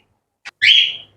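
Budgerigars chirp in a bird gallery: a brief high note, then a louder warbling chirp rising and fading over about half a second, close by.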